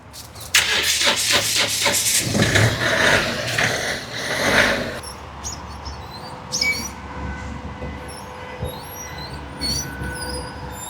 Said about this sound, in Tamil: நான் வண்டி ஸ்டார்ட் பண்ணேன்